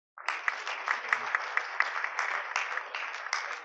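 A conference audience at a surgical session breaks into applause, a sudden start of steady clapping from many hands that keeps going, fairly close.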